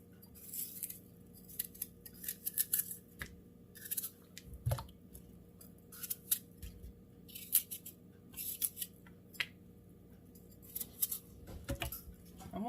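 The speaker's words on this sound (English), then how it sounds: "You just cut the core out." Knife cutting the core out of an apple for apple pie: a quiet series of short, crisp slicing and snipping sounds in an uneven rhythm, close up with no talking.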